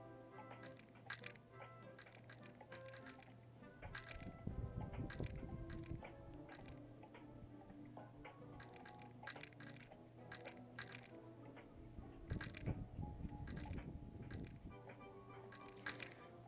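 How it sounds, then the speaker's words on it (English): Bone-crunching impact noises from the video game Breaking Bones: scattered sharp cracks and crunches in bursts, fairly faint, against a quiet game background, with occasional louder clusters. "I love the crunch noises."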